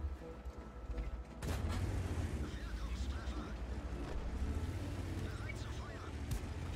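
A tank gun fires in an online tank game, a heavy cannon blast booming abruptly, followed by a rumbling, sustained roar of engine and battle noise.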